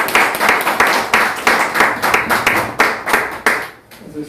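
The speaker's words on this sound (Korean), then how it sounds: "우리 지만우 박사님 큰 박수로 맞이해 주시겠습니다" An audience claps to welcome a lecturer, loud and close, with a fairly rhythmic pattern of individual hand claps that thins out near the end.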